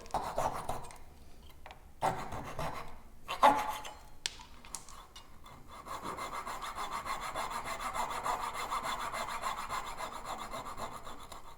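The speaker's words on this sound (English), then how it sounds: "be sure to angle your saw to match the angle of the pin here" A hand saw cuts a dovetail joint in wood. A few knocks and short strokes come first, then a steady, rhythmic back-and-forth rasp of sawing up close.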